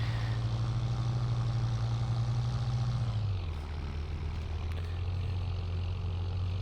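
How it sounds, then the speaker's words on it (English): Tractor engine in Farming Simulator 22 droning steadily and loudly from the cab, its tone dropping and settling lower partway through, with no voices. "It's pretty loud, this tractor in here."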